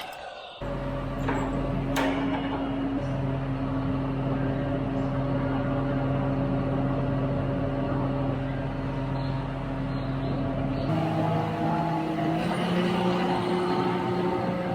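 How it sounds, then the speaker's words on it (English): Farm tractor engine idling and running steadily close by, a loud constant droning hum with a shift in pitch near the end, no talking. "It's nice to have that tractor back"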